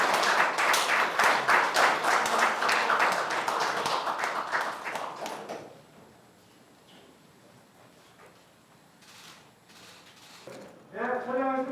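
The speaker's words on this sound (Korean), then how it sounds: "그리고 위원님들 큰 박수 부탁드립니다" Committee members at a regional public healthcare event clap loudly in a dense, steady burst that fades out after about six seconds, leaving a quiet room before a voice speaks.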